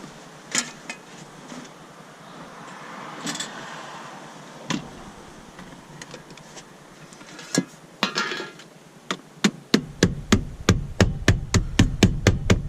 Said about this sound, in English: I can do a little repair though with this hammer.